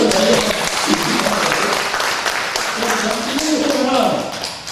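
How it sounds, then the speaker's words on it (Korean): Applause from a church congregation at a Korean house-church gathering praying for peace and reunification, steady clapping throughout, with voices talking and calling out over it. "이 박수 좀 주십시오"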